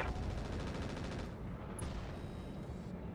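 Weapons fire from a Roguetech BattleTech mech battle, a dense continuous barrage of gunfire and explosions rumbling loudly throughout with no let-up.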